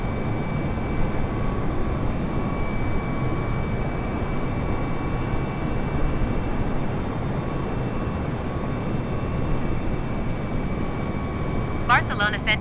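A Vueling A320neo airliner cruising in Microsoft Flight Simulator on a Barcelona–Naples route gives a steady, unbroken jet engine drone throughout, with a brief higher-pitched flutter at the very end.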